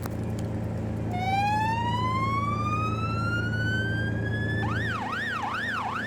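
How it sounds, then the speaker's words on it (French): A loud police siren sounds as an armored truck approaches a house with a barricaded man. It rises in a long climbing wail, then switches to a fast warbling yelp over a steady engine hum, with no talk. "Sirène."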